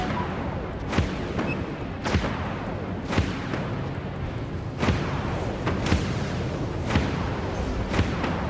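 Warship weapons in the Dreadnought video game, fired from a heavy frigate, boom in a steady series of about eight evenly spaced blasts over a constant rumbling engine bed.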